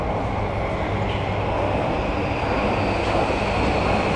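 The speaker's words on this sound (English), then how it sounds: "So I'll have to be a little quiet getting on this train." A train in Japan near Mt. Takao gives a loud, continuous rumble and hiss with a deep low drone, steady throughout with no voices.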